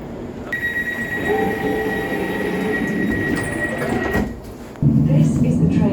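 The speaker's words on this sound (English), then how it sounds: "This is the train to Paddington." An Elizabeth line train travelling to Paddington in London, a loud rumbling carriage with a high wheel squeal and a sharp rise in noise near the end, with an announcement voice over it.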